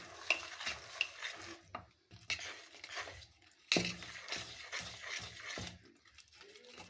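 Bottle gourd is stirred gently in hot water, giving uneven scraping and sloshing strokes with soft liquid swirls and a few drips, close by and fairly quiet, pausing briefly between strokes.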